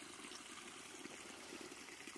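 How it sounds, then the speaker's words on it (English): A small stream trickles along a forest trail in Butano State Park, a soft, continuous, even flow of running water, quiet and unbroken, with no voices. "it's nice to see water is flowing"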